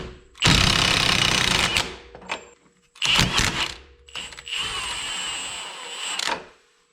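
Power tool working on a Jeep Liberty CRD wheel bearing in a garage: three loud bursts of whirring, rattling mechanical noise, each one to two seconds long, separated by brief pauses and ending in a longer sustained run.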